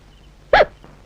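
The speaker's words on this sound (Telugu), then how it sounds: "ఏంటి ఎక్కిళ్ళు వస్తున్నాయి?" A person gives a single sharp, close hiccup in an otherwise quiet room. A much fainter second catch of breath follows just after.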